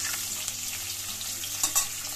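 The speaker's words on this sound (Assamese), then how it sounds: "এয়া মই ফুলকবিখিনি অলপ ভাজি লৈছোঁ ব্ৰাউন কৰি" Cauliflower florets browning in ghee with cloves, cardamom and cinnamon, a continuous close sizzle with a few light stirring scrapes near the end, no talking.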